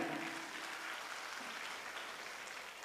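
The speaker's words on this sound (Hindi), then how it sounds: "एक बार जोरदार ताली इनके लिए बजाइए सर जी।" An audience at a business gathering breaks into steady, dense applause that holds evenly throughout, with no talking over it.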